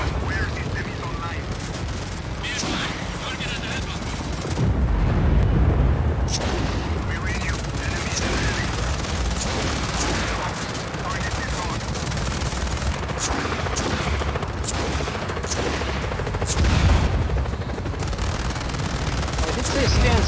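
Gunfire crackles through a Just Cause 4 battle, rapid bursts and automatic volleys repeating loudly over rotor noise and booming blasts, with a voice talking now and then.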